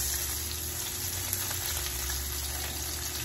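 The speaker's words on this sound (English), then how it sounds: "Let that fry up for another 30 seconds or so." Pieces of bunker fish fry in a pan with a steady, close sizzle and crackle throughout, and no one speaks.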